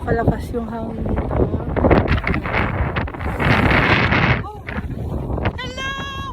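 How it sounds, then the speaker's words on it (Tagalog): Strong wind buffets the microphone on Iceland's Black Sand Beach at sunset, a loud, continuous roar that swells and gusts, with voices talking over it and a sharp rustle near the end. "Dito po kalakas yung hangin dito."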